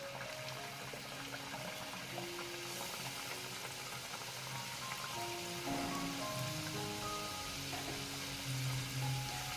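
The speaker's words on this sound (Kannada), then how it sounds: "ಇದು ಗೋಲ್ಡನ್ ಕಲರ್ ಆಗೋ ತನಕ ಫ್ರೈ ಮಾಡಬೇಕು." Badam puris deep-fry in hot oil with a soft, steady sizzle and crackle, faint and continuous, with no talking over it.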